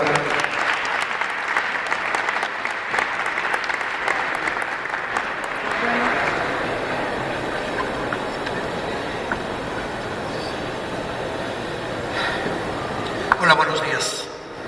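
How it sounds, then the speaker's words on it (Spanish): A lecture audience gives a long, loud round of applause welcoming a guest speaker to a Holocaust remembrance talk; the clapping gradually thins out toward the end, with a brief clatter near the close. "Igual me gustaría recibirlo con un fuerte aplauso"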